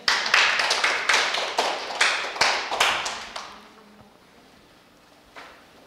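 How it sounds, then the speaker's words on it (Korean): Applause from a lecture audience during a history and culture program talk, a burst of sharp, separate claps from a small group lasting about three seconds before fading out, with one faint tap afterward. "박수 한번 더 치셔야 되는데"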